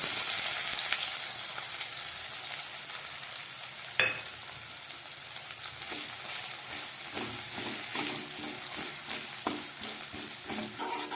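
Sliced onions and nigella seeds fry in hot oil left over from frying vegetables for an amudi fish curry, a continuous close sizzle broken by occasional scraping stirs and clinks.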